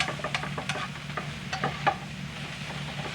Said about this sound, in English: So you can see we're just getting the sauerkraut moving. We're browning it up a little bit. Notice I'm stirring it and the noise level is still up.